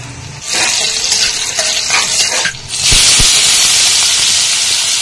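Garlic sizzles in hot oil in a kadai, giving a loud, continuous hiss that swells after a brief stir and a couple of clinks, with no one speaking.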